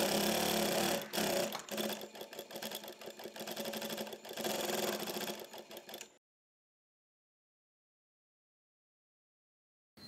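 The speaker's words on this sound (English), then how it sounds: "As I'm sewing, I'm just slightly holding this tape here so that it does not move up." An industrial Brother sewing machine fitted with a cord piping presser foot runs steadily with a dense mechanical clatter for about six seconds, then stops abruptly, leaving silence.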